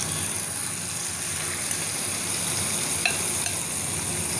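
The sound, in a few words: marinated chicken frying in ghee in a pan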